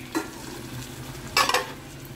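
An ivy gourd curry is being stirred as it fries in a pan: a low steady sizzle, broken by two brief scraping stirs.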